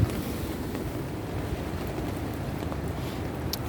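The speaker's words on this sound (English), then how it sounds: "blowing a lot of snow." Wind roars steadily through a snowstorm in February 2021, a dense close-up rumble that buffets the microphone with no break for the whole stretch.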